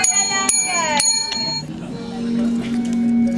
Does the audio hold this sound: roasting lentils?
no